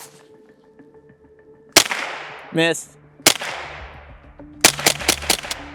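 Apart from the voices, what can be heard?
gunshots from a Ruger 10-22 rifle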